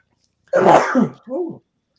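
A single sharp sneeze bursts out close by, followed by a brief voiced sound after a short pause.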